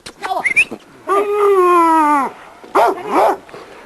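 Pistola, a young dog about 17 months old, lets out a few sharp barks and a long drawn whimpering whine, close and loud in a yard.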